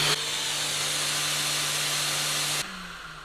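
A Surf Prep 3x4 electric random orbit sander whirs with a steady, bright hiss and low hum, then is turned down to low speed, dropping to a quieter, lower tone near the end.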